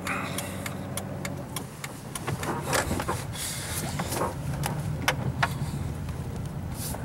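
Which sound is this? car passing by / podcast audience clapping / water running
car passing by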